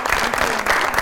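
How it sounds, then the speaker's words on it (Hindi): A studio audience claps in a brief, dense burst of close applause. "बहुत सारी तालियां।"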